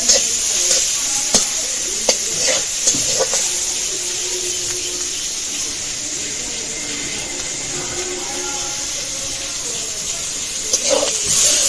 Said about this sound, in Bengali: পেঁয়াজটা এবার ভালো করে ভেজে নেব।